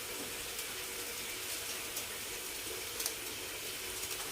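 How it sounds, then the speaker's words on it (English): Hands being washed under a running kitchen tap while cooking burgers with mash and gravy: a steady, fairly faint hiss of flowing water with small splashes, and no voices. "Wash your hands."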